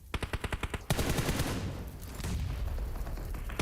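Rapid automatic gunfire in a PUBG Mobile esports match, with an even burst of sharp shots that gives way to a dense, continuous clatter of overlapping fire and blasts, loud and close.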